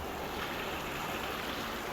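Steady broadband rush of a small creek flowing along the Appalachian Trail in Massachusetts, continuous and fairly close, with no voices.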